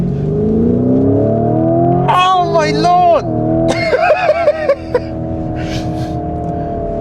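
A 2025 Lamborghini Urus with 800 horsepower drones steadily from inside the cabin, its engine note rising gently as it accelerates on a country road, while an excited voice exclaims over it.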